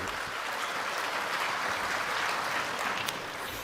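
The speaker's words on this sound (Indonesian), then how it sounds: "Tepuk tangan untuk berita baik boleh." Applause from an audience at an Indonesian presidential speech event, a steady, even roar of many hands clapping with no breaks, heard at moderate distance and without any voice over it.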